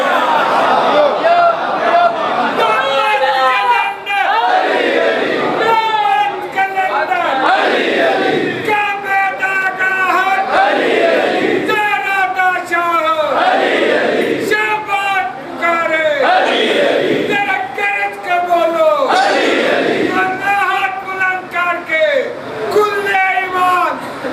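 Large crowd at a Majlis-e-Aza mourning gathering in Dhok Feroz, Chakwal, chanting religious slogans in loud, rhythmic bursts of many voices, repeated steadily with short gaps between calls.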